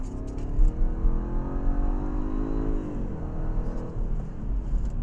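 A 2013 Jaguar XFR-S with a 550-horsepower engine accelerates hard, its exhaust note climbing steadily in pitch as it pulls away. The loud, rising engine roar holds for several seconds with no talking over it.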